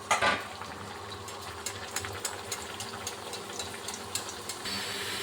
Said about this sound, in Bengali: এরকমভাবে আমি এখন লাল লাল করে ভেজে নেব